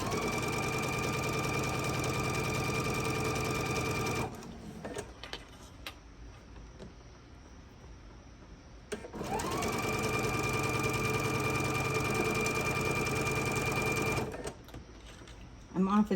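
A sewing machine stitches fabric panels for a split-panel wall hanging in two steady, even runs of close, rapid whirring, separated by a quiet pause with faint handling noises.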